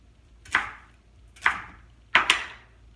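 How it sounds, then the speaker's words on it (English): A knife chops through an onion on a cutting board, making three clear, close, crunchy cuts with the last one a quick double strike, in a quiet kitchen. "I usually slice the onion into 3 pieces."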